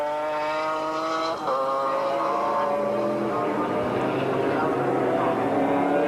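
GT race cars at full racing pace at Silverstone, including an Augusta Corvette, their engines droning loudly and steadily with pitch shifts as cars pass, under continuous commentary.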